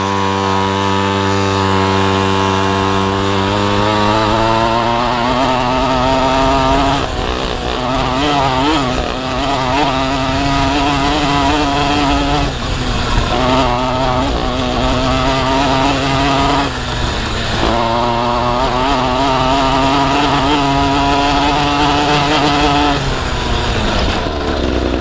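A 50cc pocket bike engine screams at top speed, a loud, high-pitched buzzing whine that climbs and wavers through repeated rises as the throttle is held, close and continuous.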